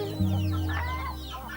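A hen clucks in a short burst of quick, close calls over a steady low hum.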